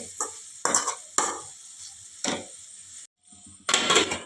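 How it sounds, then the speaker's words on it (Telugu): A spatula stirs the ridge gourd fry with coriander-garlic chilli powder in a pan over a low flame, giving several separate scraping, sizzling strokes close by with short quiet gaps between them. "ఇప్పుడు మధ్య మధ్యలో అడుగు పట్టకుండా తిప్పుతూ ఉండండి"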